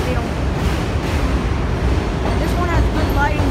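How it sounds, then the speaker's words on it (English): A New York City subway F train rumbling steadily into the Coney Island terminal station on a rainy day, a continuous loud roar with faint squeals, while a person talks over it. "there's another F train arriving at the terminal"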